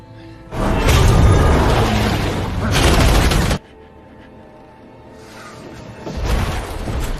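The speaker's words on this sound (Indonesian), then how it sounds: "Terjadilah baku tembak dan Ash tewas di tangan Bond." Gunfight gunfire from the James Bond film No Time to Die: loud bursts of shots and booms come in two heavy waves separated by a quieter gap.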